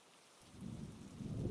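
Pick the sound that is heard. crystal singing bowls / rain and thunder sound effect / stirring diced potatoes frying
rain and thunder sound effect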